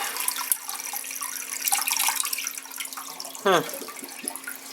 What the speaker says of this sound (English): I'll just go ahead and flush it